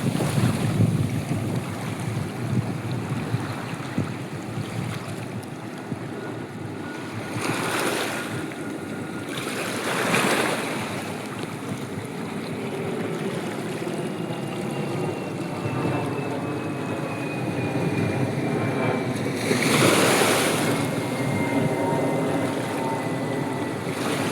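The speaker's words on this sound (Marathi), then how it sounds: "लाटा इथे मारता येतात म्हणून मी आतमध्ये जाऊ नाही शकत आहे, कारण की पाणी खूप आहे इथे." Ocean waves wash and break steadily on the shore at Erangal and Madh beach, a continuous roaring surf with several louder surges, heavily buffeted by wind noise on the microphone.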